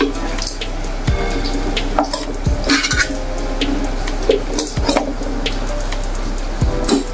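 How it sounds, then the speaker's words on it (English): Pumpkin soup ingredients fry in a pot and are stirred, with a constant sizzle under repeated sharp scrapes and clinks of the spoon against the pot. "I have to fry it for a while. Get the ingredient mixed evenly."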